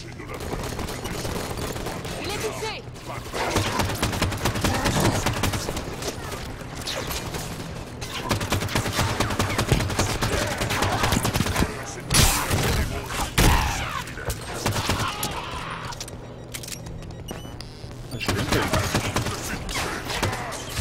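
Weapon fire in the video game Halo 5: Guardians, rapid bursts of gunshots and mechanical clanks with explosions, loud and dense, interrupted by bits of game dialogue and talk.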